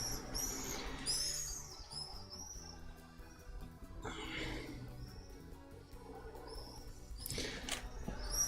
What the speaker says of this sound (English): I hear lots of birds in your area, Winter.